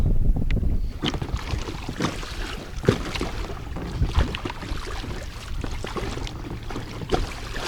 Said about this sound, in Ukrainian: Піднявся вже вітер, може вам здається, що волна не сильна